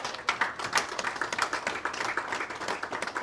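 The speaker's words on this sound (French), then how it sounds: "On peut l'applaudir." A modest graduation audience claps for a speaker in a quick, crisp patter of individual hand claps that stays fairly faint but continues steadily throughout.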